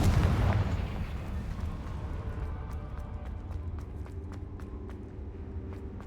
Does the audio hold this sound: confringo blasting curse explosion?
yes